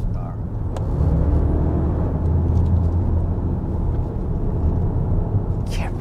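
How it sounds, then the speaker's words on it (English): A 2024 Lexus 450h+ plug-in hybrid's four-cylinder engine under hard acceleration on a winding road produces a steady, loud cabin drone. The rumble runs evenly throughout with no breaks. "hard on the gas and that little 4-cylinder has to kick in, it does get a little bit noisy"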